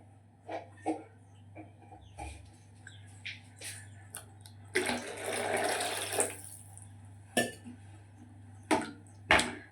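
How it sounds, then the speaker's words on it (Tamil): Water pours steadily into a cooking pot for eggplant curry for a couple of seconds, surrounded by scattered clinks and knocks of kitchenware. "இப்போ வந்து நான் தண்ணி ஊற்றிக்கிறேன்"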